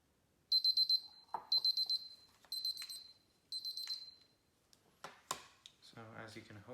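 A kitchen timer alarm beeps in four quick bursts of rapid high-pitched pulses during a chemistry demonstration with a copper penny, followed by clicks, handling noises and a voice.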